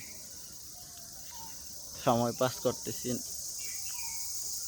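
Crickets in a village on an afternoon keep up a steady, high, continuous drone. Someone talks briefly over it partway through.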